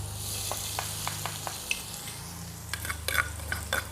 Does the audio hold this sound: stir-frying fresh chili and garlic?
yes